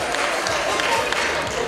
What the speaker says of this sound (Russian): Бурный аплодисмент